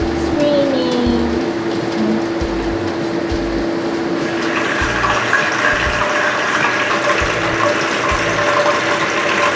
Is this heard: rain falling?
yes